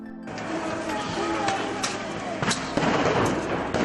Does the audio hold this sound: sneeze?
no